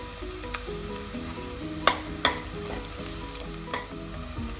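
Onions with bay leaf, cloves and cardamom sautéing in a pan: a continuous oily sizzle under repeated stirring strokes, with a few sharp spatula clacks against the metal, close and fairly loud, no talking.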